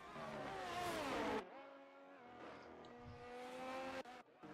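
High-revving Formula 1 engines from the F1 23 racing game at Imola, one loud car whining with rising pitch and then cutting off abruptly, followed by quieter engine drones shifting through gears.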